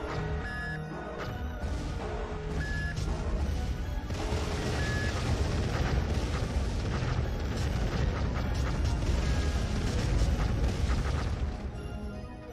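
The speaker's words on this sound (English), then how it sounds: "We're at the center of the explosion." A sustained rumbling explosion in the video game Evoland 2, heavy booming low end with crackling debris bursts that build and roll on steadily for several seconds without speech.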